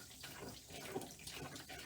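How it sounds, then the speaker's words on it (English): Cold water runs from a tap over a felted wool bowl, a continuous close splashing rush with gurgles as the wool is rinsed. "then we're going to run it in cold water"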